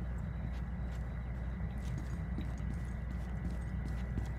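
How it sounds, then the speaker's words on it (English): Footsteps of someone running inside a building in Rainbow Six Siege, heard as a steady, rapid patter of quick steps throughout, moderately loud over a dense background rumble, with no talk. "I'm hearing some running somewhere."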